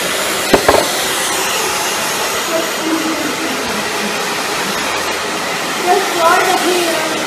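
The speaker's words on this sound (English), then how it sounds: "Take your blow dryer and just blow dry it the way you want to blow dry it." A handheld hair dryer blows steadily and loudly while drying a short pixie haircut, a constant close whoosh with slight shifts as it moves, voices faintly underneath.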